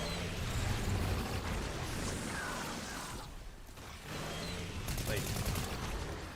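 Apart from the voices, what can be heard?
gunfire in the video game Fortnite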